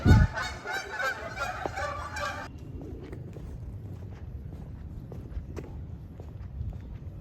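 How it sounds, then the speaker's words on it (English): Loud honking from birds rings out for a couple of seconds with a reverberant echo on a college campus. Then it stops, leaving soft footsteps and quiet ambience. "All the bird sounds echo like crazy around here."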